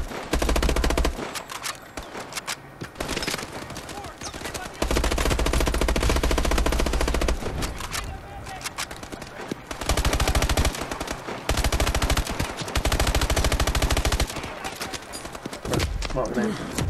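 Machine gun fire in Call of Duty Advanced Warfare, rapid loud automatic bursts in several long volleys with short gaps, close and harsh, with speech mixed in.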